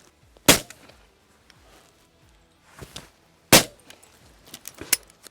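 Sharp shotgun blasts from a Ruger Red Label 20 gauge over-and-under on an English walked-up and driven partridge shoot: two loud close shots, each quickly followed by a second fainter report, with quieter outdoor noise between.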